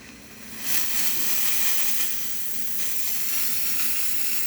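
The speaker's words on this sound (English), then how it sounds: "Nice strong steam." The steam wand on a freshly serviced La Pavoni lever espresso machine opens with a sudden loud, strong hiss. The hiss holds steady at close range with no talking.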